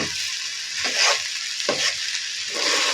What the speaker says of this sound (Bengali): আপনারা দেখতে পাচ্ছেন তেলের মধ্যে চালটা ভাজা হচ্ছে